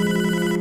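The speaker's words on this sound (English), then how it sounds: "It's... the phone." A telephone ringing in the video game Hotline Miami 2, a loud, steady electronic trill that fills the short moment without pause.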